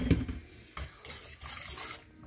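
Spaghetti with anchovies is stirred in a pan, giving a few scraping, rubbing strokes with soft sizzling between them, close and fairly loud.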